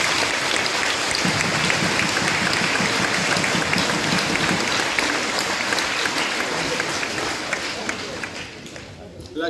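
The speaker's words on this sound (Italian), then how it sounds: "Quindi un applauso per lei." Sustained crowd applause from a room of students at a public address in Veneto, dense and steady for about nine seconds, tapering slightly at the end; some voices mix in underneath.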